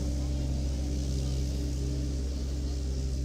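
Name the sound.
tractor mowing grass passing by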